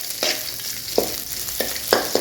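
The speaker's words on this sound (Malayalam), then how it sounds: "കുറച്ച് കറിവേപ്പിലയും കൂടി ചേർത്ത് കൊടുക്കാം. ഇത് ജസ്റ്റ് ഒന്ന് മൂപ്പിച്ചിട്ട്" Curry leaves sizzle in hot oil in a pan while being stirred for a spicy roasted peanut snack, a constant fry hiss broken by five sharp scraping strokes of the spoon.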